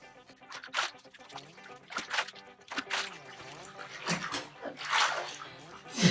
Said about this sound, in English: Let's wash my face.